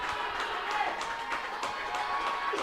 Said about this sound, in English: The crowd is elated.